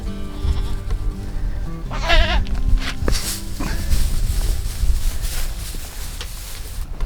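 Goats bleat at a farm during evening chores, a wavering bleat standing out clearly at mid-clip over steady background noise, with a few shorter calls and footsteps nearby.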